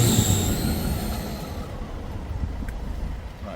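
A 2010 Mercedes Sprinter diesel engine revs steadily close by, a loud sustained rumble that eases slightly partway through, with no talking.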